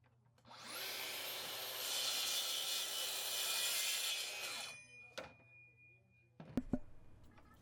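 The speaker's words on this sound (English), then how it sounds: "use a track saw to trim off that little edge there" A track saw trims the edge of a black walnut resin table, running loud and close for several seconds with a whining cut, then spinning down, followed by a few knocks and handling sounds.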